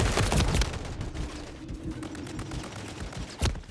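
Sentry turret gunfire in Modern Warfare 3: bursts of shots and clatter, loudest at the start and again near the end, with quieter game noise between.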